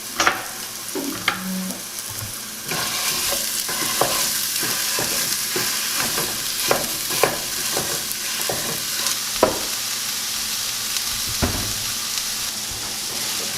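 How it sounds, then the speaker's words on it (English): Jimmy Dean premium pork sausage sizzles steadily in a dry pan, a continuous close hiss broken by frequent scraping stirs of a utensil against the pan. "We're using Jimmy Dean's regular premium pork sausage, and we're going to fry this up in a pan"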